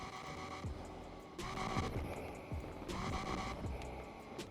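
A BMW M1's engine in the video game Need for Speed Unbound revs repeatedly in bursts through a customized exhaust, rising and falling with crackling exhaust pops, fairly quiet and steady in tone.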